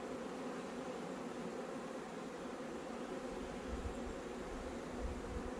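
Honeybees in an opened outdoor hive on a warm early-spring day, with the inner cover being removed, give a steady, dense, close buzzing hum that continues without a break.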